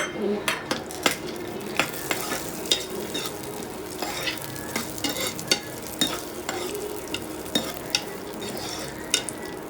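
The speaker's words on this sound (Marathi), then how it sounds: "आपण आता मनुके तुपामध्ये मस्त रोस्ट करून घेऊया, फ्राय करून घेऊया याला मस्त गोल्डन ब्राऊन" Cashews, almonds and raisins roast in ghee in a pan for sevai kheer, giving a steady sizzle broken by frequent spoon scrapes and metallic clinks against the pan, with no talking.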